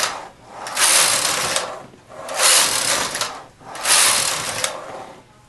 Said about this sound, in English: Now I'm going to knit 4 rows.